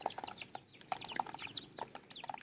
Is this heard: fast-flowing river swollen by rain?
no